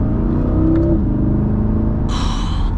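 A 2026 Corvette E-Ray hybrid, V8 working alongside electric motors, pulls hard in a steady droning surge from inside the cabin, with a brief higher whine near the end.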